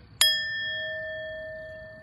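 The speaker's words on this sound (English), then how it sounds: "We ring the bell to begin and end the practice." A meditation bell is struck once outdoors to open a mindfulness practice, giving a clear bright ding whose pure ringing tone sustains and slowly decays over the following two seconds.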